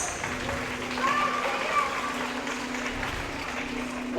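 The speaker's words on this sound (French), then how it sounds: "on peut applaudir Charlie Poppers" Crowd applause at a roller derby match, a diffuse wash of clapping and cheering from the stands, fairly far off and steady, with a voice talking through part of it and a faint hum running underneath.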